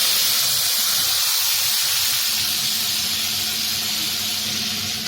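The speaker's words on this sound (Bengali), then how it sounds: "দেখো, মশলাটা একটু ভাজা হবে" Ground spice paste sizzles steadily while frying in a pan with cumin, a loud continuous steamy hiss that holds at an even level throughout with no talking.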